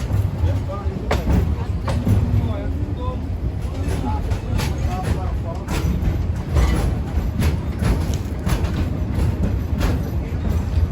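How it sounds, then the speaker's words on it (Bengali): The Meghna Express pulls away from Meher railway station in Chandpur, its wheels drumming and clattering on the rails in a steady loud rumble heard from inside a carriage, with periodic sharper clacks over the joints and a voice talking over it. "চাঁদপুরের মেহের রেল স্টেশন থেকে আমাদের ট্রেনটি চলে যাচ্ছে।"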